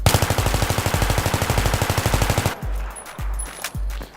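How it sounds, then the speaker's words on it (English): An M16A3 rifle fitted with a foregrip and heavy barrel fires a long fully automatic burst, a fast even string of about thirty loud shots, followed by a few scattered clanks of brass or metal. "we're going to do fully automatic fire with the foregrip and the heavy barrel"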